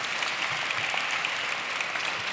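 An audience at a talk gives a short burst of clapping, a soft, steady patter of many hands that stays even and fairly quiet throughout.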